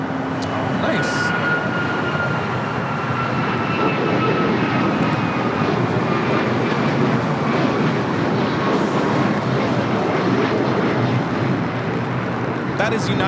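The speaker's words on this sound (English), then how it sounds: "That is United Airlines 1621 taking off to Orlando on the MAX 9" A United Airlines Boeing 737 MAX 9 takes off from Los Angeles bound for Orlando, its engine roar rumbling steadily for many seconds at a moderate distance, with a person talking over it.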